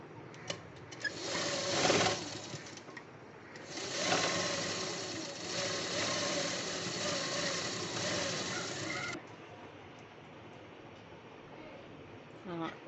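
A sewing machine stitches a band made from leftover fabric in two close, whirring runs, a short burst followed by a longer steady one, before dropping to quiet handling noise.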